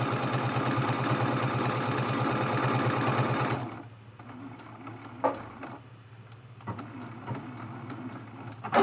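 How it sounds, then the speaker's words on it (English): A sewing machine stitches in a fast, continuous whir for a few seconds, then stops, leaving a quiet room with a few faint clicks and knocks. "You could use any of the decorative stitches on your sewing machine."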